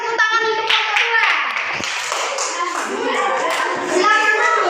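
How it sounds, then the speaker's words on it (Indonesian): A class of fifth-grade children claps for a group of classmates, a loud, dense burst of applause through most of the moment, with a voice briefly heard at the start and end. "kasih tepuk tangan untuk kelompok 2"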